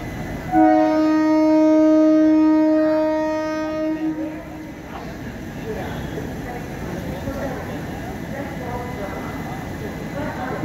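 A train horn sounds loud and steady for about three seconds at a railway station platform, followed by general station bustle and rumble with voices in the background.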